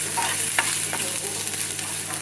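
Asafoetida tempering for dhokla crackles and sizzles in hot oil in a pan, a steady close frying hiss with occasional sharper pops and stirring scrapes.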